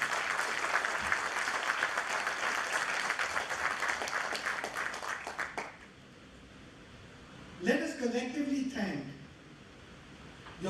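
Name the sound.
audience applauding graduates at a convocation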